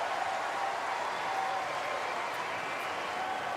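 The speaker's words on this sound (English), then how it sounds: "Give a little round of applause here to both players" A tennis crowd at the Australian Open 2013 applauds both players. The applause is a dense, even wash that holds at the same level from start to end, with a commentator's voice faintly underneath.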